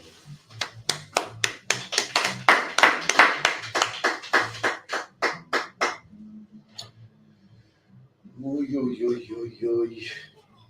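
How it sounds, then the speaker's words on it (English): A crowd at an ISUPK gathering claps in a steady, loud run of sharp individual claps for a few seconds, fading out before talking voices take over near the end. "Clap it up for the teacher."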